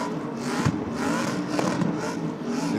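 A car does a burnout on the burnout pad at Sydney Dragway. The engine holds a loud, sustained roar throughout, with rasping surges as it revs hard, and no voices are heard over it.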